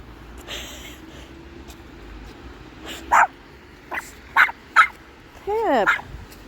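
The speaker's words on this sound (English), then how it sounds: "Why are you barking? You're just barking because Daisy barked" Dog barking close by in a series of sharp separate barks, the last one drawn out into a rising whine, heard indoors with no talk over them.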